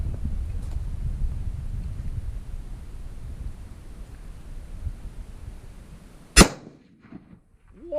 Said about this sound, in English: I didn't realize there's quite a bit of muzzle blast coming off of that thing.